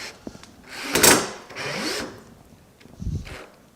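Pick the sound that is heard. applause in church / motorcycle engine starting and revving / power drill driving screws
power drill driving screws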